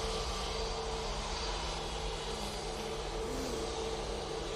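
An easyJet airliner approaches Manchester Airport, its jet engines giving a steady, broad rumble and hiss that stays even and fairly distant throughout, with no talking.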